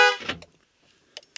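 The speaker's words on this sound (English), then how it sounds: "So if I hit the box kind of hard here, you can see that set the alarm off." A 2018 Ford car alarm sets off the horn after its shock sensor is tapped, one loud close honk that cuts off into silence, followed by faint clicks.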